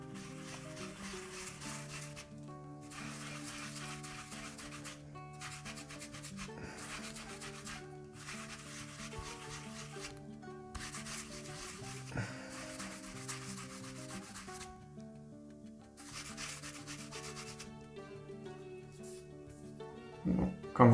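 Depilatory gum being rubbed firmly in circles on skin makes a steady, close scratchy rubbing that runs continuously, with brief pauses between strokes.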